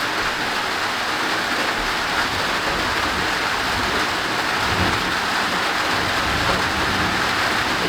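Heavy tropical rain pours steadily during a thunderstorm in Ohio, a dense, constant wash of water close by with a low rumbling undertone, and no voices are heard.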